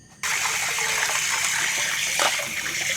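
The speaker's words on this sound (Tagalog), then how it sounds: "Napakalakas ng tubig" Water suddenly bursts out in a loud, strong gush at an outdoor washing area of a Tagaytay campsite. It settles into a steady, forceful rush that fills the space.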